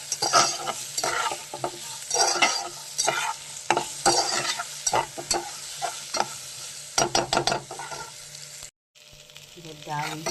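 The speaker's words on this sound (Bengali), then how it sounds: "আমটাকে নাড়াচাড়া করছি।" Mango pieces frying with dried red chilli, mustard seeds, turmeric and salt are stirred in a pan, giving sharp scraping strokes over a constant sizzle, with a brief silent gap before the sizzling resumes.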